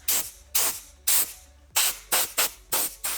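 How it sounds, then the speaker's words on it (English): Short bursts of compressed air from an air compressor blasting dust off a dusty computer motherboard, seven sharp hissing blasts in an uneven rhythm, loud and close with brief quiet gaps between. "I got really dusty one and decided to use my air compressor"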